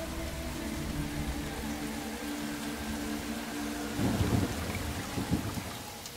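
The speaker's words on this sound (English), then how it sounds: "bringing torrential rain" Torrential tropical monsoon rain hisses down steadily while a low rolling rumble of thunder swells near the middle, all dense and continuous.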